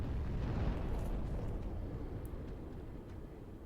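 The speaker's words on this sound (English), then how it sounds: "you're the one lobbing grenades" A grenade lobbed by an enemy in Dark Souls III erupts in a deep, rumbling boom that rolls on and slowly fades, heavy and low, with no voices.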